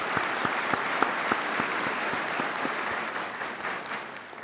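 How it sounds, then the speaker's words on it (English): An audience at a spring college commencement ceremony claps steadily for a graduate's family, a dense, even wash of applause from a large crowd with a few sharper claps near the front, and no voices. "So let's give them a round of applause."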